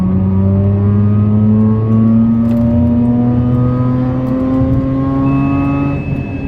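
A Mazda RX-8 rotary engine revs high and smooth past 8000 rpm in second gear, its whine climbing steadily in one long pull, loud and close, with no voices.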